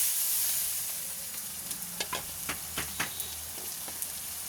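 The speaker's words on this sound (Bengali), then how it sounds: "পেঁয়াজটা একটু লাল করে নিচ্ছি।" Onion fries in hot oil with bay leaf and dried red chilli, giving a soft steady sizzle broken by scattered sharp pops and crackles up close.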